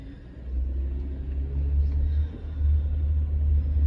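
A steady low rumble from a moving car with worn struts, droning continuously with slight swells and no talking.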